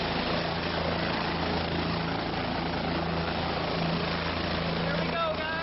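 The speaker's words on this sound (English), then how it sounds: "I'm not quite driving, but I'm sitting in the front of the helicopter here" Helicopter cabin during a tour flight over Niagara Falls, a loud, steady engine and rotor drone with a constant hum throughout, close and enveloping, with a voice talking faintly under it.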